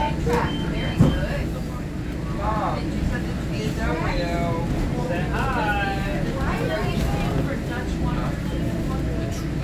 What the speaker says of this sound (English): Train trip.